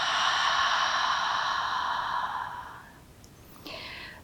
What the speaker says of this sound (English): Audible exhale out through the mouth.